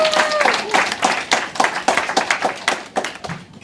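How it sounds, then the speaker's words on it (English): Applause from a comedy club audience greeting a comedian, a burst of many hands clapping in dense, uneven rhythm, loud and close, with faint voices cheering underneath. "everybody, please put your hands together for the amazing Socrates!"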